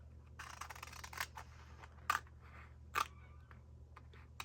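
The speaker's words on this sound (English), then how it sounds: "I'll get my fussy cutting scissors" A few quiet, crisp snips of small fussy-cutting scissors cutting paper, spaced apart, with two sharper closing clicks over a low background hum.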